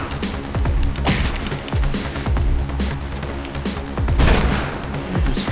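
Rapid gunfire in the Mirror's Edge video game comes as bursts of sharp, loud shots with short pauses between volleys, close and continuous over a noisy game background.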